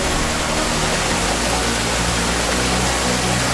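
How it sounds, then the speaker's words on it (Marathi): A constant, loud roar of water pours down a waterfall on the Nageshwar trek near Choravane in Ratnagiri, with a dense, unbroken rush and no voices. "आणि ते हे पाणी खाली पडतं."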